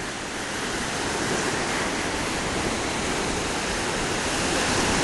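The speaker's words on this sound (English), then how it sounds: "Now allow the waves to wash over you." Ocean waves washing in a continuous, even rush of surf, steady and fairly loud throughout with no voices or other sounds.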